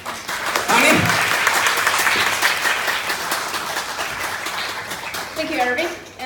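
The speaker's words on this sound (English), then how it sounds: "please give her a big applause" Audience applause at a Toastmasters workshop as a presenter is welcomed, dense clapping that swells in and holds steady before tapering, with a voice beginning to speak near the end.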